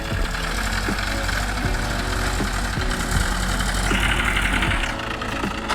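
A new tractor engine idles steadily during groundnut harvesting, a loud, close diesel rumble with a regular knocking pulse and a brief rise in pitch near the end.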